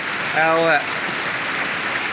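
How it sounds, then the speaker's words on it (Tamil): Heavy rain pours down in Chennai during Cyclone Fengal, a steady outdoor hiss that runs the whole time, with a short burst of a human voice near the start. "எவ்வளோ நேரமாக மழை பெஞ்சிக்கிட்டு இருக்கு?"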